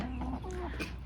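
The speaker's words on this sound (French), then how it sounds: "Vous êtes belles les poules." Chickens cluck briefly in a rural spot during a spring mountain hike, with a few soft clucks over steady outdoor background noise and a louder squawk right at the end.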